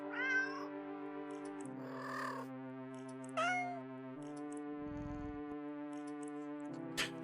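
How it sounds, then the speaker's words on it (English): Several cats in a video game meow in short, bright cries spaced a second or two apart while eating fish, over a sustained tonal musical drone. "The sound of happy cats mush away at the fish fills your ears"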